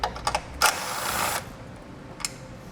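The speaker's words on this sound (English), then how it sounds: "We'll remove this 10mm nut here in the middle." Ratchet wrench turning a 10mm nut on a car's washer fluid reservoir, a few quick clicking bursts and a longer ratcheting run, close and fairly quiet against faint background hiss.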